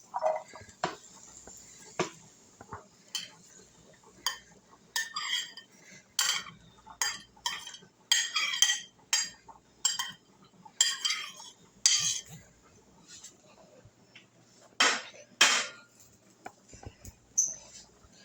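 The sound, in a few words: vegetables being added to a pan for vegetarian lasagna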